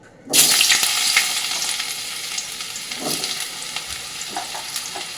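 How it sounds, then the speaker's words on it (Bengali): Vegetables hit hot oil in a wok with a sudden loud sizzle that settles into steady frying crackle, with occasional stirring clinks; no talking. "কড়াইতে তেলটা দিয়েছি এর মধ্যে এক এক করে সবজিগুলো একটু ভেজে নেবো"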